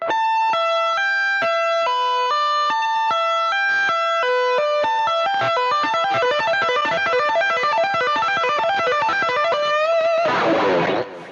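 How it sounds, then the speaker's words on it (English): Electric guitar tapping a rapid repeating note pattern that alternates across two strings, bright clean plucked tones in a steady even rhythm, growing denser before a brief noisy flourish at the end, no voices. "So it's going to sound like this if we're going to alternate two strings."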